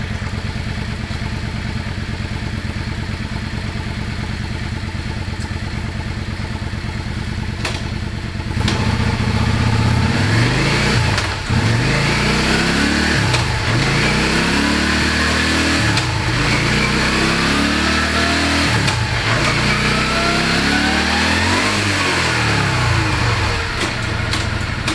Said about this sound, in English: I'm gonna go ahead and run the transmission for you.